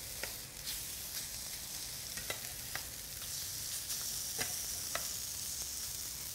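Pumpkin fritters fry in a pan with a continuous, fairly quiet sizzle broken by scattered sharp pops and crackles, heard close up and without talk.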